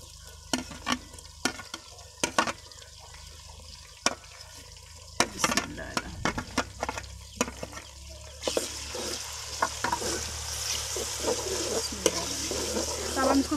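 Tomatoes and green chilies fry with garlic in a pot, giving a steady sizzle broken by repeated scraping stirs and clattering utensil knocks; the sizzling grows louder and denser toward the end.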